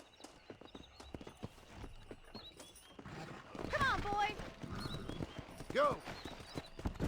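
Horses in a race in the Red Dead Redemption video game, with rapid clip-clop hoofbeats and an occasional whinny under a man's speech and game ambience.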